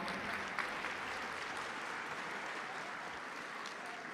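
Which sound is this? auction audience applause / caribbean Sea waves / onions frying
auction audience applause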